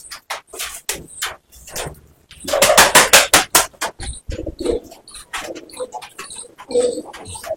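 Giribaz pigeons being let loose, with a burst of loud wing-clapping in quick succession followed by scattered flapping and soft coos nearby.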